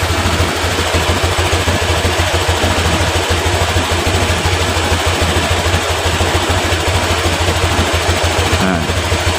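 Honda Vario LED scooter engine idling unevenly at around 1500 rpm, a close, steady low rumble with fine rapid vibration, loud and continuous for nearly ten seconds.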